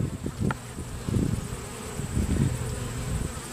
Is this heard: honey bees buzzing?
yes